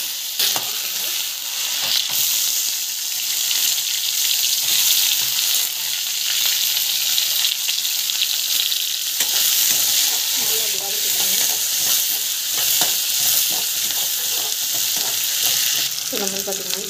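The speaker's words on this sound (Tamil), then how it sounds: "கடுகு, சீரகம், கடலைப்பருப்பு நல்லா வதங்கணும்." Mustard seeds, cumin and chana dal frying in hot oil, with a constant loud sizzle and crackle, occasional stirring scrapes, and brief sputters toward the end.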